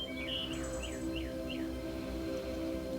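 Birds chirp in a few quick, faint repeated downward notes above a low, steady background hum.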